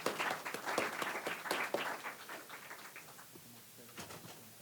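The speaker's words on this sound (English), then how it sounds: "Give them a round of applause, please." An audience at a fireside chat on food policy with Congressman Vern Buchanan breaks into applause, a dense burst of clapping that is loudest at the start and gradually thins and fades over a few seconds.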